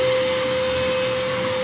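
A Sealey 20V cordless wet and dry vacuum running in blower mode gives a steady, loud, close airflow whine with a constant high tone, uninterrupted for under two seconds.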